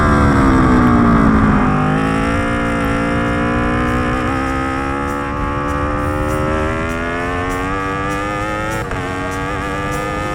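A race car engine from the Racing Is Life game drones steadily at high revs, its pitch holding then slowly rising through a gear, loud and continuous with no talk.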